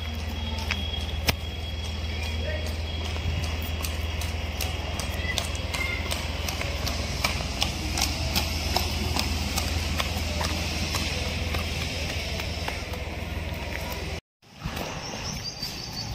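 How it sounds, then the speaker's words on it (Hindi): A tall Marwari horse walks its gait at a stud farm, hooves clip-clopping in a quick, steady rhythm, close and clear over a constant low hum. "चाल वाला घोड़ा है, देखिए अब चाल भी है इस घोड़े के अंदर।"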